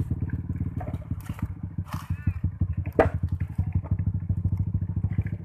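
Hard enduro motorcycle engine revving in rapid rhythmic pulses on a campus trail ride, loud and close, with a few clatters, a thump and brief voices over it.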